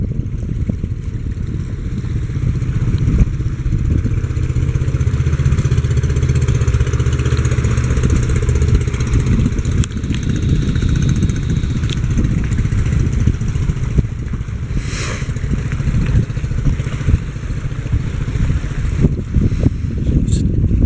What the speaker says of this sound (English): A couple of you local fishermen coming in. Got a little inboard diesel or gas in there.